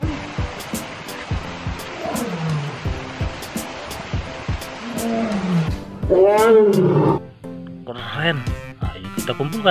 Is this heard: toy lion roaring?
yes